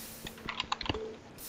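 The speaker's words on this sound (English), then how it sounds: "Zach, stop typing to your girlfriend." Rapid, light keystrokes on a computer keyboard during a gaming session, a short quiet burst of clicks and taps close to the microphone with no talking.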